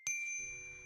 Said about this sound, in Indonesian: Tali yang terikat pada wanita itu langsung membunyikan lonceng yang ada di atas.